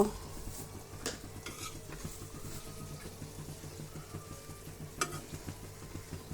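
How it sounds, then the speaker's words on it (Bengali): Spinach stirred and turned in a cooking pan with a faint sizzle, soft scraping and a few light utensil clinks against the pan, quiet and close with no talking. "1 মিনিট পরে আমি শাকগুলাকে এখন উল্টিয়ে দিব, উল্টিয়ে নেড়ে ছেড়ে দেব।"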